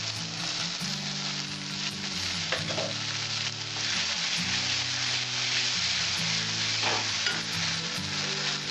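Green chili and garam masala paste fry loudly in a pan for a Bengali-style aloo matar curry, a dense steady sizzle with intermittent stirring scrapes and clinks throughout, no talking.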